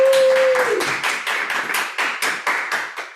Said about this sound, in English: Let's give Delaney a round of applause.